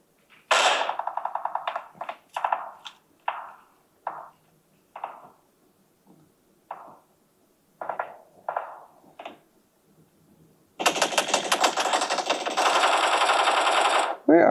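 Gunfire in the video game PUBG: scattered single shots and short bursts crack out at irregular intervals, then a dense, sustained volley of rapid fire closes the stretch.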